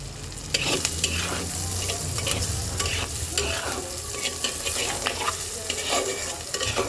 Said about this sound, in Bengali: তো চলো আলু আর পেঁয়াজটাকে আগে একটু হালকা ভেজে নিই